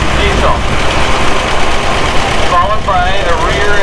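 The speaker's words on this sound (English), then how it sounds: "Next we got a 750 John Deere utility tractor with an A hot on its tail." A John Deere 750 utility tractor engine runs at an outdoor steam threshers' reunion in Rollag, Minnesota, a loud, continuous low rumble under crowd noise, with a person talking over it.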